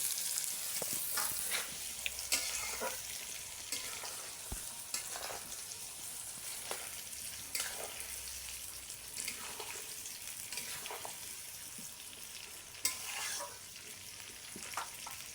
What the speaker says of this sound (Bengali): দেখুন বন্ধুরা আমি আমড়াগুলো সব তেলে দিয়ে দিয়েছি আর এটাকে ভালো করে নাচতে হবে